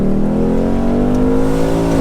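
A Ford Mustang V8 convertible drives through snow, its engine revving loud and close in a steady, deep droning growl with the pitch climbing slightly.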